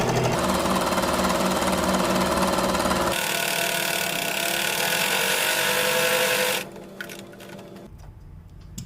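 Sewing machine stitching along the edge of a newborn baby cap, a loud, rapid mechanical chatter running steadily, shifting in tone partway, then stopping and leaving quieter handling noise.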